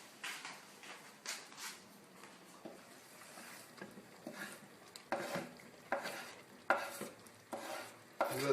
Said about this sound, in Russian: Хорошо перемешаем.